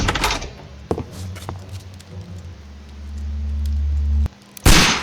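Sharp gunshots crack out in a Sherlock Holmes video game, with several pops followed by a low rumbling hum, then one loud final bang.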